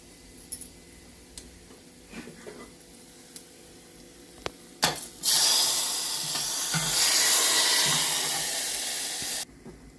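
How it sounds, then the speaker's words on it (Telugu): A hot tempering of spices in oil gets poured into a spinach pulusu, setting off a sudden loud hiss and sizzle that runs for several seconds before cutting off, after a stretch of quiet clinks and kitchen sounds. "తాలింపు బాగా వేగింది. ఈ పోపుని దీంట్లోకి వేసేసుకుందాం"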